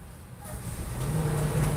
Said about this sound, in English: You hear that truck?